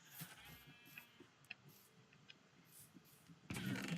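A Minecraft sheep bleats faintly a few times in a game pen, with soft ticking game sounds around it and a louder burst of noise at the end.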